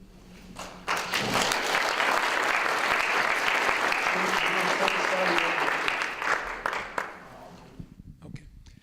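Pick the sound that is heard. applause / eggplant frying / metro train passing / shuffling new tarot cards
applause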